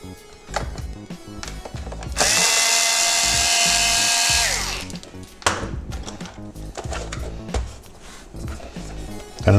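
A Torx 10 driver removes two screws from the instrument cluster of a 2000 VW T4, with a loud, close, steady electric whine lasting about two seconds, framed by clattering handling noises.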